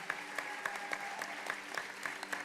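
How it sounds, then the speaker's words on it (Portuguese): Church congregation applauding at a service, steady dense clapping with a few sharper claps standing out rhythmically; a faint sustained tone runs underneath. "Vocês podem aplaudir Jesus pelos nossos voluntários."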